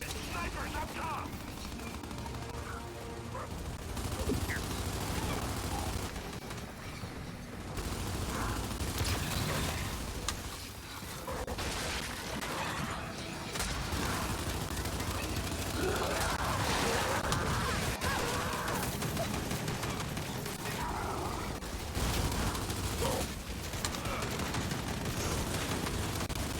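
Sniper gunfire in a video game cracks through a long, busy battle, with scattered shots and mechanical clatter beneath players talking.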